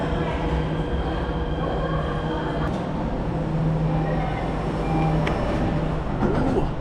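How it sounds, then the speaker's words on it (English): A Jakarta Metro train at the platform, giving a steady loud rumble with faint squeals and rattles throughout, heard up close with no clear talk. "we're just going to wait for the train here"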